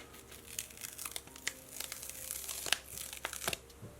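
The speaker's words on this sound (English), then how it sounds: "Just peel this off." A sticker is peeled off its backing sheet, close up and quiet, with scattered small crinkles and a few sharper papery snaps in an irregular rhythm.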